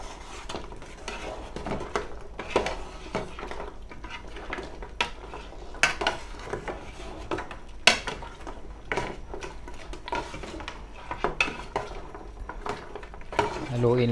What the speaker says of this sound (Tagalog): Haluin lang ng haluin.